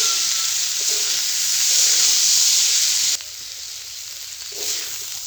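Shoila leaf vegetable bhaji sizzles steadily in a frying pan, a close, continuous hiss that drops quieter partway through as the pan is taken off the heat.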